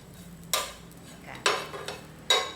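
Shredded coconut being dry-roasted and stirred in a pan over medium heat, with three separate scraping strokes of a utensil against the pan amid quiet background.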